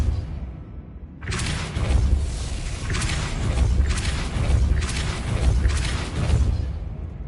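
A Depulso spell cast in a Hogwarts video game, heard as a loud, dense rushing blast that surges in after a brief quiet lead-in and keeps pulsing until the end.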